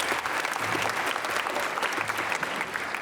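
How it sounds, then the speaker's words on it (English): Sustained, dense applause from a school winter concert audience fills the hall at steady volume, with scattered cheers mixed into the crowd's clapping. "So big round of applause for them."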